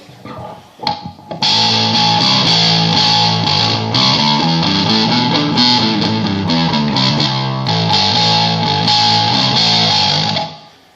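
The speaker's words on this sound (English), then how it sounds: "It's a very nice tone with the treble all the way up. That really nice high end." A bass guitar runs through a Metal Muff distortion pedal with the treble fully up, giving a bright, gritty high end. A few plucked notes lead into a loud, sustained distorted riff lasting about nine seconds, with no talking.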